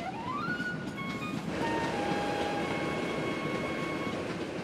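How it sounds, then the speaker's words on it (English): A cartoon train rolls along the tracks with a steady rumbling roar, while high whistling and squealing tones rise and hold above it, loud and continuous with no talk. "It's really the train that's moving, Caillou."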